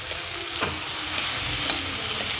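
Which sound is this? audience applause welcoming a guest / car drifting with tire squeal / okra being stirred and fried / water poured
okra being stirred and fried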